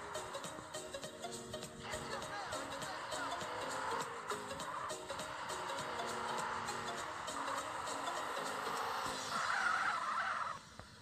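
A car in the GTA video game with a real-life mod drives and skids, tires squealing over a steady engine drone for several seconds, with a louder screech near the end.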